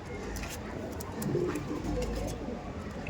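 Malbai pigeons in a loft give soft low coos amid quick wing flutters and faint background noise.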